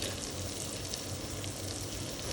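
Whole spices, cinnamon pieces, cloves and peppercorns with cardamom, frying in a pan for butter chicken, heard as a steady loud close sizzle with no voices over it.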